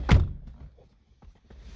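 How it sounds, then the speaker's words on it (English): A door is opened, starting with a single sharp thunk of the latch or handle at close range, followed by soft faint knocks and a quiet room. "Let's open the door."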